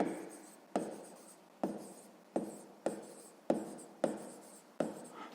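Pen or pencil strokes on paper while working a sixth-grade math exercise, a series of about eight distinct scratching bursts in a steady rhythm, quiet and close with no talking.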